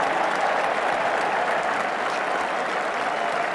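Cricket crowd at an Ashes Test in the 1980s applauding a cracking shot from Gower, steady dense clapping and cheering that stays loud and continuous throughout.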